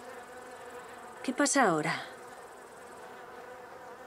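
A steady insect drone runs under a voice in Spanish, which dominates the middle of the clip, while the buzz continues faintly before and after it, like bees humming nearby.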